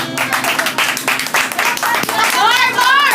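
A small group claps and cheers at a lively informal gathering, steady scattered hand claps mixed with excited shouting and children's voices, close and loud throughout.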